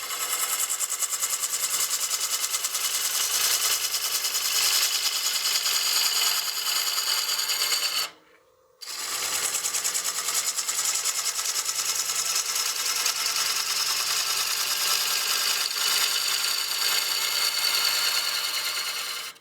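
A woodturning lathe spins a wooden platter while a tool cuts against it, giving a loud, steady scraping hiss that stops briefly once and then resumes.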